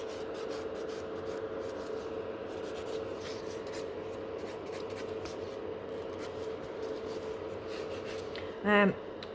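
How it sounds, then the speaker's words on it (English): A nail file shapes natural fingernails with a continuous fine rasping, close and soft, over a steady background hum, ending in a brief sharp buzz. "What movement I really love is filing from underneath"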